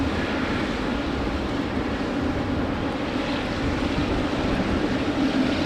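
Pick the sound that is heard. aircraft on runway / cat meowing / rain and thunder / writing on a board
aircraft on runway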